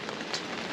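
Steady rain patters on a surface as a dense, even hiss, quiet and continuous, with people arriving at a dock nearby.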